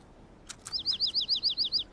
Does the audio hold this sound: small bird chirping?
yes